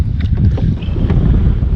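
Strong wind blowing across a lake during kayak fishing for catfish, a steady low rumble of gusts buffeting the microphone, loud and continuous with faint water sounds and no talking.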